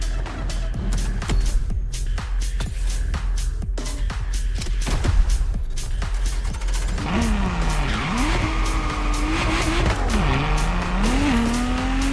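Ferrari Enzo supercar driven hard in The Crew Motorfest racing game, engine howling loudly and continuously with tire squeals and skids, pitch sweeping up and down through gear changes in the second half.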